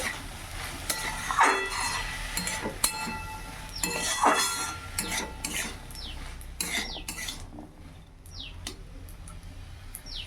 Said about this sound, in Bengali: ছোট্ট একটা আলু আর মুসুর কলাই দিয়ে ভালো করে এটা নাড়াচাড়া করে ভেজে নিচ্ছি